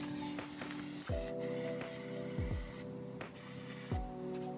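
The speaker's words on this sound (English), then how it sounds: "give it a bit of clean with your brake cleaner." Brake cleaner sprayed from an aerosol can onto the oil drain plug of a 2006 VZ Commodore, a loud, steady close hiss broken by short pauses and a few bumps.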